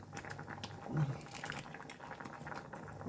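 A pot of tamarind-based pulinkari curry boiling on the stove, a close, steady bubbling and popping patter that holds at an even level for a few seconds.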